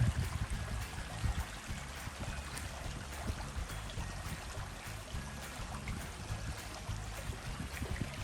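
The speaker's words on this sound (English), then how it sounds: "Flowing water." A forest stream flows nearby, a steady, close rush and burble of water with faint trickling detail, continuous and without talk.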